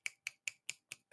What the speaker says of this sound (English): I could do one-handed clap, which is just closing and opening my hand